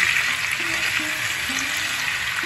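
Soft sizzling of cucumber frying in a pan, a steady hiss with faint bubbling, close and continuous with no voices.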